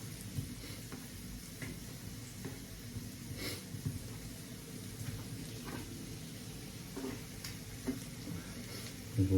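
Food fries in a pan toward golden brown, a faint steady sizzle with occasional pops and stirring scrapes in a quiet home kitchen.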